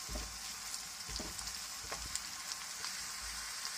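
Ginger garlic paste and two small green chilies frying with golden onions in an eggplant curry pan, a steady close sizzle with scattered soft crackles and a few stirring scrapes, no voices.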